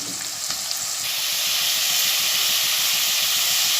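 Chopped onions going into hot oil already holding toasted garam masala for mutton masala, producing a loud, steady hissing sizzle that swells after the first second and stays constant, close by.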